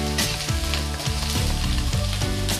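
Ginger and onion frying in a pan for a stuffed pointed gourd dolma with prawns, a loud continuous sizzle with periodic scraping stirs, no talking.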